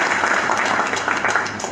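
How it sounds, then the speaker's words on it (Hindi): Loud, dense applause from a crowd at a motivational meeting, a continuous wash of many hands clapping close by for a couple of seconds. "जोरदार तालियां"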